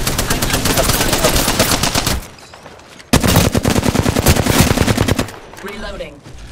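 Automatic gunfire from an Apex Legends match in two long rapid bursts, loud and close, separated by a short lull with faint background noise.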